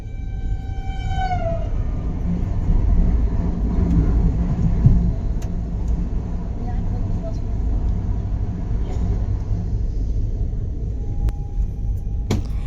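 The 12334 Vibhuti Express pulls into Patna station, heard from on board. A falling tonal squeal or horn opens, then a steady low rumble continues with scattered clicks and faint background voices.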